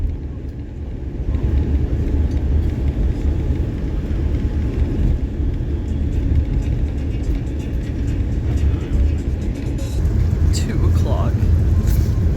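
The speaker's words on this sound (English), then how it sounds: "The bus just finally started moving now." A bus engine rumbles low and steady as the bus pulls away, a continuous drone with some rattling, while a person talks over it.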